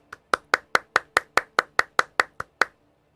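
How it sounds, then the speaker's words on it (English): A single pair of hands clapping about a dozen times in a quick, steady rhythm, crisp and close with silence between claps. "Let's give him a round of applause for actually playing PoE"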